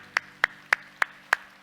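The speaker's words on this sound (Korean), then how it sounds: "우리 하나님께 영광의 박수 합시다." A church congregation claps in unison at the close of a sermon, six sharp, evenly spaced claps in a steady rhythm, crisp and fairly close over a quiet low hum.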